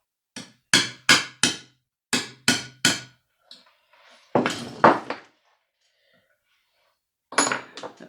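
Sharp metallic hammer blows knocking a pin out of the anti-vibration mount on a McCulloch Pro Mac 850 chainsaw, about six crisp strikes in two quick groups, then scraping and a few more rattling taps, close and loud.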